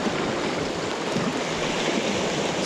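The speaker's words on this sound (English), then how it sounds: "The swell starts rolling in. It bounces off all of these jagged rocks." Winter ocean swell breaks on jagged rocks at a coastal fishing spot, heard as a steady broadband wash of surf and churning water at moderate level, with no voices.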